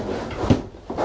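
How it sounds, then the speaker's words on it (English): A drawer in the workshop room of an Allures 45.9 sailboat is pushed, giving a short wooden knock and scrape at mid-clip, close and fairly loud, with a lighter knock near the end. "You can't get the drawer back in."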